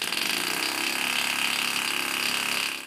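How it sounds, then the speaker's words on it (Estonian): Homemade air engines run one after another, giving a dense, fast mechanical chatter with a rapid pulsing rhythm. It stays loud and steady before cutting off at the end. "Ja mootorid järjest töötades on jõudluse erinevus kindlasti kuulda."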